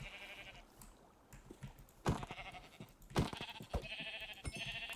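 Several sheep bleat in a Minecraft mountain landscape, a few separate calls spaced through the stretch, moderately close and clear with no talking over them.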